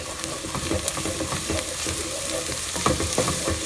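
Onions with ginger garlic paste sizzle in a hot pan for chicken keema, stirred with repeated scraping strokes over a constant crackling fry, close and alone.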